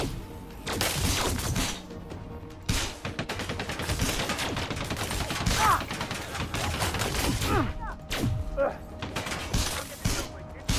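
Video game combat gunfire, rapid volleys and bursts of shots with crashing impacts and mechanical clatter, loud and continuous, with radio-style voice callouts mixed in.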